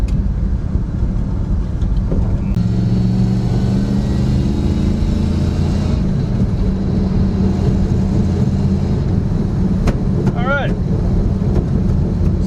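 A classic Chevy Nova engine, carbureted and misfiring, idles loudly and unevenly, with a rough, stumbling note and occasional revs, heard up close with wind buffeting the microphone.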